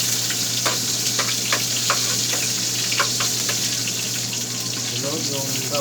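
Chopped onion frying in hot oil in a pan for adobo: a close, steady sizzle with frequent sharp crackles and pops, continuous throughout.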